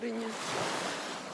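Sea surf washing onto the shore on a calm, warm, cloudless day at a Latvian campsite, a steady broad wash with no distinct breaks, lightly touched by wind on the microphone.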